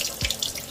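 Tap water running over beef ribs being washed in a sink for pho soup, a short, close splash of flowing water with no talk.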